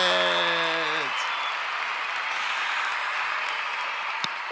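Studio audience applauding and cheering to welcome a guest animation writer, a dense wash of clapping with a held tonal whoop at the start, steady and fairly loud throughout.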